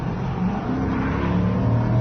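A Rover 75 V8 accelerates hard out of a corner on a road test, a steady deep engine drone building in pitch and loudness, heard close with no talk over it.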